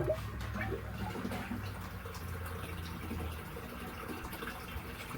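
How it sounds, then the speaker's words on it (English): Water runs and splashes steadily into the tank of a DIY backyard aquaponic system, a soft continuous pouring sound with a low pump hum underneath. "There's water flowing into my tank."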